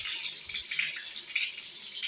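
Tap water running steadily from a faucet in a newly plumbed house, a constant close splashing stream with no voices.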